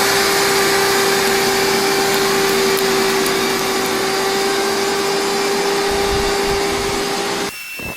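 A lawn scarifier digging into a lawn, a loud, constant mechanical drone with a steady whine, running continuously before cutting out abruptly near the end.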